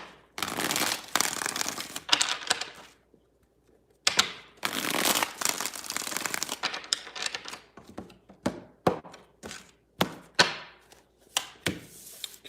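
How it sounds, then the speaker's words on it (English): Tarot cards are shuffled close up in quick papery riffles and bridges, long bursts early on giving way to a series of short, separate slaps and taps with brief pauses between. "2 more shuffles here, 2 more."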